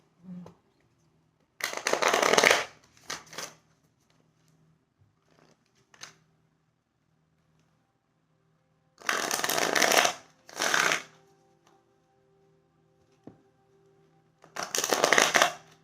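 Oracle cards being shuffled in three separate bursts of brisk riffling, close and fairly loud, with quiet gaps between them and no talking.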